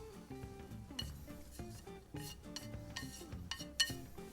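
Stir-fried shiitake mushrooms and spinach are mixed into beaten eggs in a pan for a flourless egg pizza, giving soft repeated scrapes, clinks and stirring taps at a gentle, uneven rhythm, faint and close.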